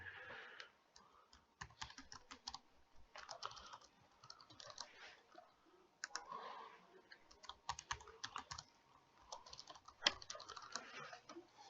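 Typing on a computer keyboard while entering an email and password into a web form: soft, quiet bursts of key clicks in uneven clusters, close by, with faint background noise and no talk.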